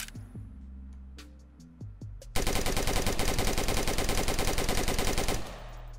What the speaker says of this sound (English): Here's the HK416.